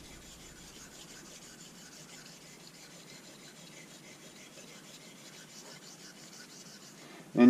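A straight razor is honed with quiet, continuous scraping strokes on a stone, faint and close, with a louder knock at the very end.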